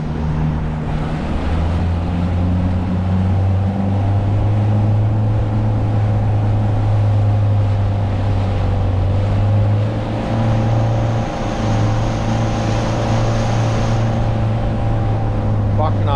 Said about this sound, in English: the motor started to play up